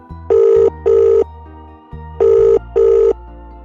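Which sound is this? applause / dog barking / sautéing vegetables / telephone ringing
telephone ringing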